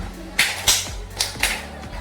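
Four quick, sharp hand claps in a counting clapping game come in two loose pairs, close and bright against a low murmur of room sound.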